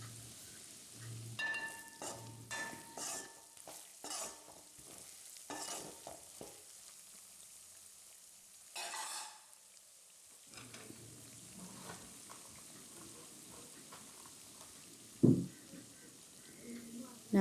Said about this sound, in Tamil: இப்போ இறாலை சேர்த்து நல்லா வதக்கி விடுங்க